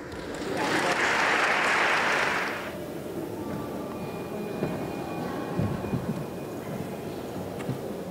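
Clapping from an audience at a 2017 Best Companies awards ceremony for the winning company Novartis Biociências, a loud burst of many hands over the first few seconds that quickly dies away into quieter room noise.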